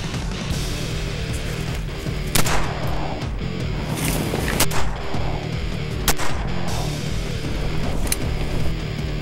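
Shotgun shots on a duck hunt, four sharp blasts spaced a couple of seconds apart over steady outdoor wind noise, fairly close and loud.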